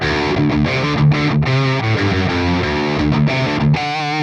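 An electric guitar played through a Line 6 POD Express with the distortion bypassed, only the lead amp model active, gives a clean, sustained run of picked notes and chords, close and steady with no talking.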